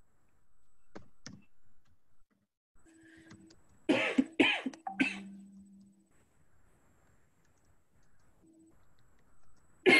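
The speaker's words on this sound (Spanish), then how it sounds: "no me pongas nerviosa con tu tos" A burst of several sharp coughs in quick succession, fairly close, during a radio broadcast, amid otherwise quiet background with a few faint clicks.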